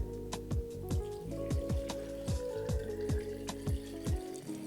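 Spring water glugs steadily from a bottle over beets and ginger in a jar for kvass, a close, rhythmic run of gurgling pulses with no talk.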